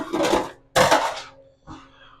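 Stir-fry ingredients with green onions tossed into a pan, three separate bursts of clattering and rustling sizzle close by, the last one shorter and softer.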